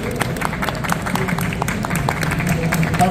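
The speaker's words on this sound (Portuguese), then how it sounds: "Podemos encerrar com uma salva de palmas para os nossos entrevistados." An audience at a storytelling and accessibility event at Rio's Pier Mauá gives a brief round of applause, a busy patter of claps heard together with voices.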